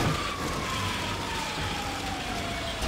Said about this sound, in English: What is that loud siren?